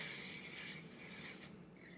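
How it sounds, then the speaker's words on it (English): Hairspray misted lightly over hair during an updo: a steady, close, bright aerosol hiss lasting about a second and a half, then fading out, with no talking. "I'm just going to take a light spraying of my hairspray just to kind of hold it up."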